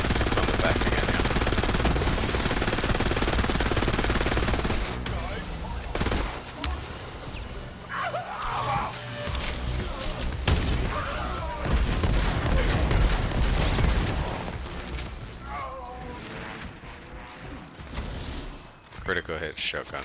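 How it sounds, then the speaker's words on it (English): Rapid, dense gunfire bursts in the shooter video game Borderlands 3, a loud sustained barrage at first that breaks into scattered blasts and impacts, with voices chatting over the action. "Critical hit shotguns right up close."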